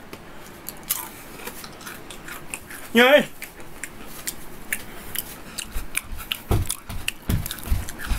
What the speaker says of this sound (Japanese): どうも、咀嚼音 ASMR を冒涜する人です。